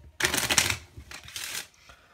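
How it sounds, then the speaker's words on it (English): A deck of playing cards gets a quick riffle shuffle, a close burst of fluttering clicks followed by a second shorter flurry as the cards square up. "I'm gonna give it one more cut and quick riffle shuffle"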